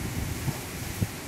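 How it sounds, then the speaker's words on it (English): Strong hurricane wind from Hurricane Laura roars steadily into the microphone as constant broadband rushing, with a couple of brief buffeting gusts and no voices. "And boy, the wind is kicking."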